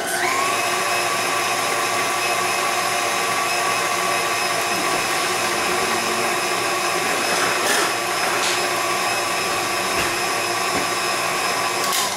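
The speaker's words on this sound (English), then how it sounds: "you're going to mix it until it becomes a doughy consistency and it pulls away from the edges" A stand mixer or electric mixer kneading bread dough for a quick 40-minute loaf, a steady loud motor whine running unbroken from start to finish with no talking.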